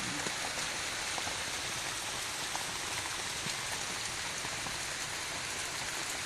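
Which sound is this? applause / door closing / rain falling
rain falling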